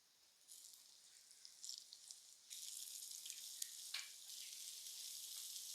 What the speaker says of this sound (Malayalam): പാൻ വെച്ചിട്ടുണ്ട് കുറച്ച് വെളിച്ചെണ്ണ ഒഴിച്ചു കൊടുക്കുക വഴുതനങ്ങ ഓരോന്നിങ്ങനെ അടുക്കി വയ്ക്കാം